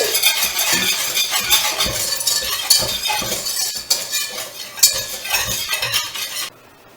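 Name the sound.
stirring sugar and salt mixture for banana pudding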